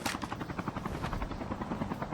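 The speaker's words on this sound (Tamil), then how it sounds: "வருது. ஹெலிகாப்டர்" A helicopter arrives in the mobile shooter Call of Duty Mobile, its rotor thumping in a fast, steady, loud rhythm close overhead.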